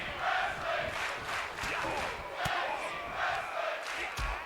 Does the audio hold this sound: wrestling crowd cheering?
yes